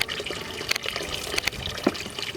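Engine coolant trickles out of the car's system into a bucket during a coolant change, giving a soft continuous splashing with a few small drips and plinks, close and fairly quiet.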